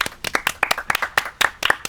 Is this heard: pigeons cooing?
no